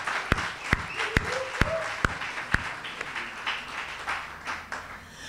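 Audience applause for new students at a community development program launch, a soft spread of clapping with several sharp, evenly spaced claps standing out close by, tapering off toward the end.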